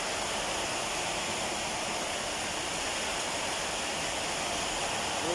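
Water is poured into a pot of simmering pork adobo, giving a steady, broadband rushing and bubbling that runs unbroken and fairly quiet from start to finish.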